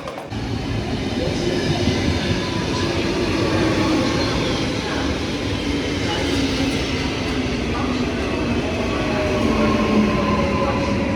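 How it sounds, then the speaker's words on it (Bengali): A train pulls into a station in Amsterdam, its loud, steady rumble and rolling wheel noise filling the platform throughout without a break. "আর এই তো আমাদের ট্রেন এসে পড়েছে"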